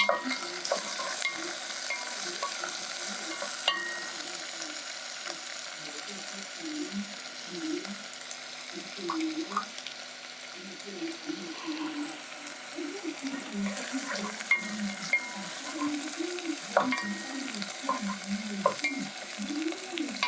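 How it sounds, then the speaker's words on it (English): Liver frying in a pan on a big cooker, a steady sizzle with soft intermittent stirring scrapes throughout, while a voice talks faintly in the background. "as you cook the liver"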